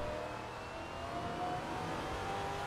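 A Maserati MC GT4 race car in a racing video game accelerates on the Zandvoort circuit, giving a steady, fairly faint engine drone that rises slowly without any talk over it.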